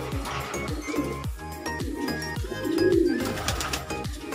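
A bird, probably a pigeon, coos near its former loft, with repeated soft low coos close by over a background of scattered clinks and other bird sounds.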